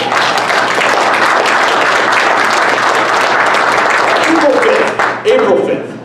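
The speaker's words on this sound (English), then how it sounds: "so little applause" A political meeting audience claps in a thick, sustained burst of applause at a Tea Party event, holding loud and even for several seconds before tapering off and fading near the end.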